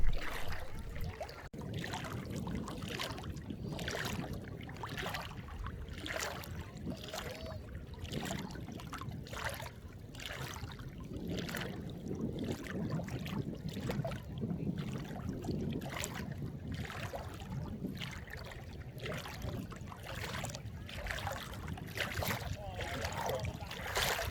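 Water washes gently at Balos beach on Crete, a soft, rhythmic lapping and swishing that swells and fades in repeated pulses over a low, steady background.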